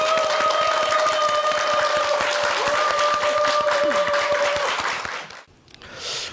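Studio audience applause on a morning TV health show, a full crowd clapping loudly and evenly while a sustained musical tone plays, then fading out near the end before a brief swell.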